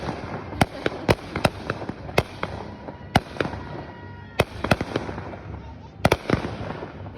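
Fireworks bursting outdoors, with a sharp crack every second or so over a steady crackling fizz, including several quick clustered pops near the end, while a voice murmurs faintly beneath.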